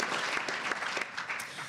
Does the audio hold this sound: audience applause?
yes